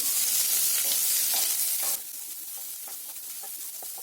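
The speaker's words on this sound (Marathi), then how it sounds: "गरम मसाला फ्राय झाला की त्याच्यामध्ये कांदा टाकायचा" Onion and green chilies frying in a pan with garam masala give a dense hiss that is strong at first and then drops to a softer crackle after about two seconds, with faint stirring clicks and no speech.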